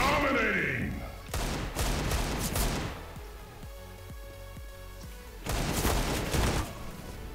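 Bursts of gunfire in a shooter game land as a headshot, loud clustered shots with echoing tails, a quieter stretch of ringing tones, then another burst; a voice talks over parts of it.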